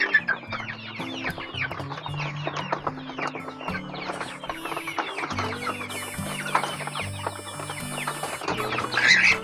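Chickens cluck steadily and close by, several birds overlapping in a busy farmyard chorus with no talking.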